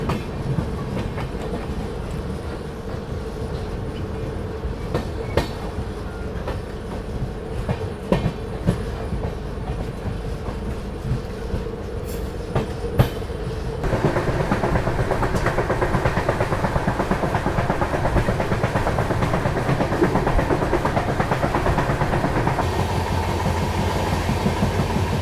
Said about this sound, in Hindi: चलिए, निकल गई है अपनी ट्रेन जो है बस्ती रेलवे स्टेशन से, अपनी गोरखधाम सुपरफास्ट एक्सप्रेस।